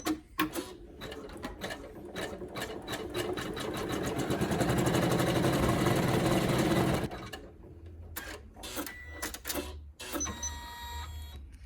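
A Janome 550E or Ricoma EM1010 embroidery machine sews a tack-down stitch: a fast, steady mechanical stitching rattle that builds for several seconds, then stops and gives way to scattered clicks and short stitching bursts, with no voices.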